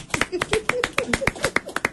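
A small audience claps for a guest on a television talk show, with sharp, separate handclaps in a quick, slightly uneven rhythm and voices mixed in.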